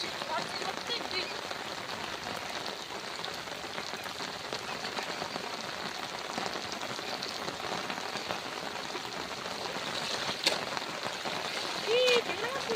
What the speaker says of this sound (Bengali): বর্ষাকালের মতন প্রতিদিনের মতন ঝড় বৃষ্টি শুরু হয়ে গিয়েছে